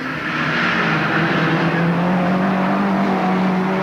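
Race cars roar steadily at Alwalton Raceway in 1983, a loud continuous engine drone with a rising pitch as cars pass close by, no voices over it.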